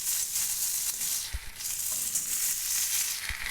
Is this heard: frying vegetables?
yes